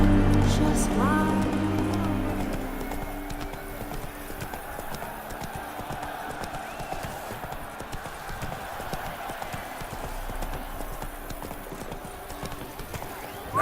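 Roach the horse's hooves clip-clopping at a steady trot in The Witcher III video game, an even rhythmic clatter that continues throughout, with a brief neigh and music fading at the start.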